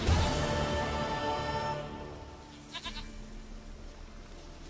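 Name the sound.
goat bleating in Witcher 3 video game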